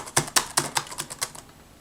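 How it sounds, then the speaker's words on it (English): A Microsoft Surface Book 2 keyboard clatters under quick random typing, with about eight crisp keystrokes in fast succession that fade off, heard close and with no one speaking. "just randomly typing random letters and just kind of spamming on it"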